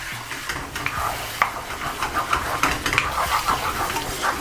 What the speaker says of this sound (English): When adding yogurt, just turn down the heat slightly and mix it properly along with the mixture